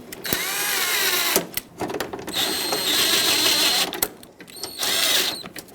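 A power drill or driver whirs in several sustained bursts with short pauses as it runs bolts into the hood latch of a 2007-2014 Chevrolet Silverado 2500HD, loud and close with no talking.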